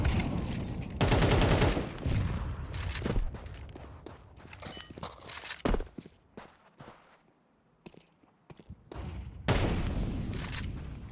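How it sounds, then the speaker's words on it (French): Gunfire in an online competitive shooter match rings out in several loud bursts with sharp single shots and scattered footstep-like taps between them, heard close up and without talk. "On entend au niveau du sas des shoots encore."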